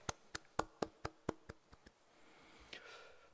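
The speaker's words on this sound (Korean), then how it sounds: "격려와 박수 부탁드리겠습니다." At a military Christian worship service, about nine sharp, evenly spaced hand claps ring out faintly, then trail off into quiet room tone.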